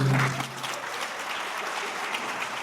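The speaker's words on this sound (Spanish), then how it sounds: "Y sí, aplausos." A small studio group applauds during a podcast recording, a brief steady patter that goes on after a short voice at the very start cuts off.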